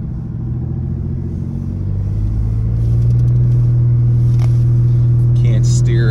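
A Dakota pickup truck rumbles off-road through ruts, its engine a steady low drone that builds slightly as it pushes on. Someone talks over the engine noise.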